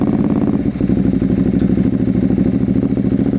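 A loud, worn exhaust roars close up as an engine fires and settles into a rough, throbbing idle with a steady pulsing rhythm.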